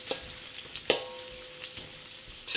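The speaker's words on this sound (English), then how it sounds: "add the onion that we sliced earlier and cook until it brown" Sliced onions fry in hot oil for an Indian crayfish curry, a close steady sizzle with occasional spoon scrapes and stirring clatters in a pan.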